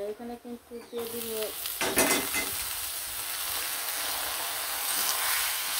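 Radish greens hit hot mustard oil with garlic and onion, setting off a loud, sudden sizzle that settles into a steady close frying hiss, with a few stirring scrapes.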